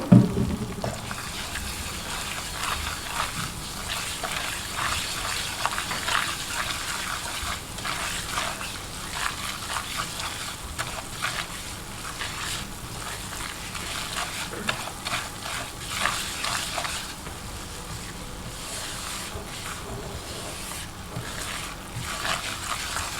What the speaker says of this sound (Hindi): इसको फ्राई करें ताकि ये कच्चा इसका पानी जो है थोड़ा सा ख़त्म हो जाए